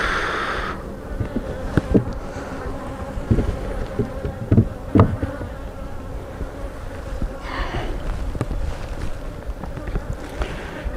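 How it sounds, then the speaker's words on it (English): Many bees buzz continuously around an open hive, a dense droning hum with occasional louder passes close by, mixed with faint handling knocks. "with all these bees flying around, they might drown"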